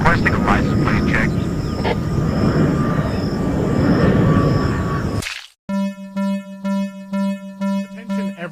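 An airplane engine in a police video game drones loudly and steadily for several seconds, then cuts to a pulsing electronic tone.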